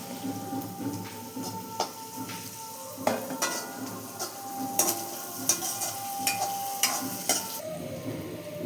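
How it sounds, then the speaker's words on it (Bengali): Cashews and raisins frying in a pan with fried rice vegetables, a soft sizzle under repeated sharp metal spatula scrapes and clinks against the pan in an irregular rhythm, close and without speech. "দিয়ে হালকা করে ভেজে নেবো কাজু কিশমিশটা।"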